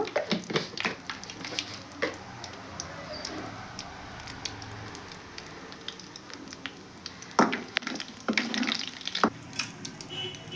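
Cumin and mustard seeds crackle and sizzle in hot oil for a tempering, a close, uneven spattering with sharp pops and bursts scattered throughout.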